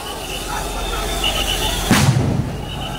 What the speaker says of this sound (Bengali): দর্শক, সাউন্ড গ্রেনেড কিন্তু ছাড়া হয়েছে।